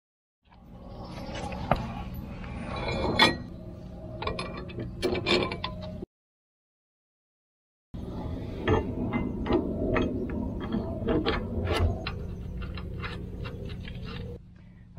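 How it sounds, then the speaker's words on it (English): Tools work on a disc brake caliper bracket on a boat trailer, giving ratcheting, clicking mechanical sounds in two dense stretches split by a silent gap, close and fairly loud with no talking. "let's get this bracket taken off"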